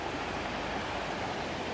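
Clear stream water in Alaska rushes steadily as a dense, even hiss of flowing water, close and continuous throughout, with no voices.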